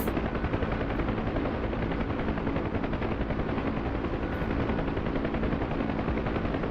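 Continuous roar of a helicopter with rapid machine-gun fire from its door guns layered throughout, a dense and steady din that stays loud and close with no pauses or voices.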